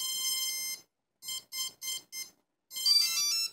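Electronic speed controllers on a CX20 quadcopter with a Mini APM 3.1 flight controller emit loud, bright musical beeps during throttle calibration: a long tone, then four short evenly spaced beeps, then another long warbling tone.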